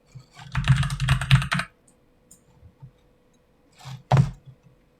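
Keystrokes on a computer keyboard come in a quick burst of close clicks, then pause, then a few scattered taps and a final short flurry, with no talk.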